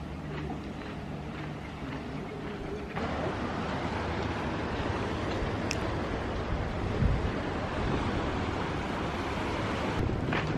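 Ocean surf washing below a small cliff near Barcelona, a broad continuous roar of waves mixed with gusting wind noise on the microphone, steady and fairly close, with no clear talking.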